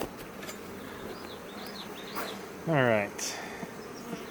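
Honey bees buzz around an open hive frame filled with nectar during a queen installation, faint hum with a louder bee passing close for a moment; a person murmurs briefly.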